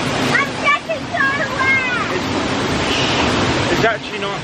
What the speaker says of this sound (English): Like being behind the waterfall.